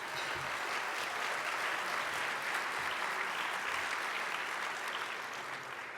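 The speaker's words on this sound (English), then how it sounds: "Let's have a round of applause for them as well." A conference audience gives a round of applause, a continuous, even wash of many hands clapping for several seconds with no one speaking over it.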